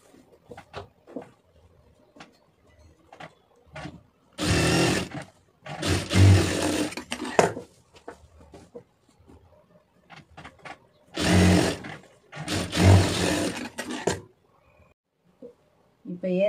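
An overlock sewing machine stitches a blouse shoulder seam in two loud whirring bursts of a few seconds each, separated by quieter handling clicks and rustles of fabric.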